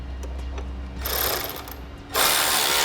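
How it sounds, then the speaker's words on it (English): A power tool tightens a bolt on a running board bracket on a 2014 Jeep in two loud buzzing, whirring bursts at close range over a low steady background hum. "That one tightened, we can tighten the other one now."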